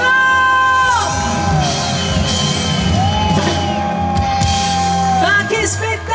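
A concert crowd in the Piazza Manzoni square in Jesolo yells and whoops loudly and continuously, with long sustained cries rising over a steady roar of voices.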